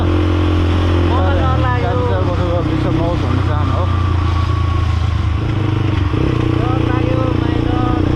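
A motorbike engine runs steadily and loudly throughout a ride, with a constant low throb and small shifts in pitch, while someone talks over it.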